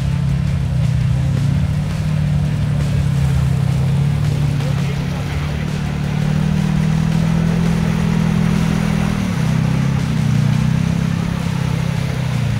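Engine drone of a lifted turbocharged 4x4 ATV riding through the rain: a loud, steady hum that keeps going with slight shifts in pitch. Faint background noise sits underneath throughout.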